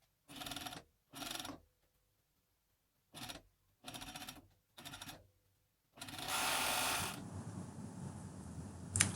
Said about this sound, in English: I place the ribbon over the back shoulder seam and sew through all the